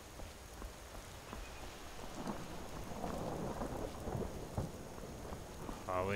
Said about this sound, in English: the lightning and the thunder now